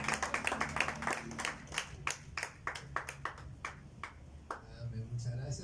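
A church congregation breaks into applause, a dense run of hand claps that builds and then fades into scattered claps near the end, with a low murmur of voices underneath.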